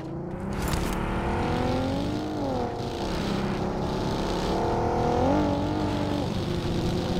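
A car engine revs and passes nearby, a sustained rising and falling drone with shifting pitch and no talking.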